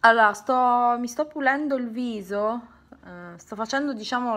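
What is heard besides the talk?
No distinct noise like a dog, phone or traffic.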